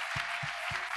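A church congregation applauds and acclaims during worship, producing a dense wash of clapping with regular low beats pulsing underneath.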